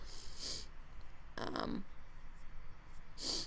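Short nasal sniffs, three quick breathy bursts spaced apart, close and fairly soft, with no talking.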